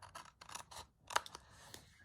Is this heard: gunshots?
no